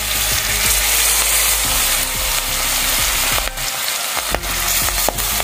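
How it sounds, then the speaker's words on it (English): Fish pieces fry in hot mustard oil, a steady loud sizzle filling the whole stretch, with a few sharp spatters and pops and brief clatters of handling near the pan. "I've heated some mustard oil here, around 2 big tablespoons of mustard oil, and I'm going to fry the pieces of fish"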